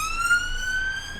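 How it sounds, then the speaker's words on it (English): An ambulance siren wails outside, a steady rising tone heard through walls at moderate distance, with no other sound over it. "There's a loud one. I think ambulance actually."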